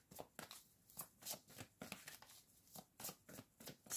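A deck of tarot cards being shuffled by hand in repeated bursts of soft riffling and slapping, close and fairly quiet, with no voices.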